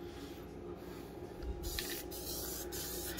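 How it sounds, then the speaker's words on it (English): A can of Gorilla Glue heavy-duty spray adhesive hisses in a steady, close spray, with short bursts of added spraying partway through and a faint background hum. "I'm using some Gorilla Glue spray adhesive"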